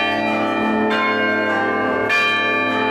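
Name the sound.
church tower bells playing a tune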